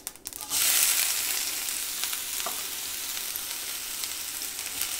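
Onions drop into hot oil with panch phoron and start frying: a brief clatter gives way to a loud, steady sizzle that stays close and continuous, with scattered crackles and stirring noises.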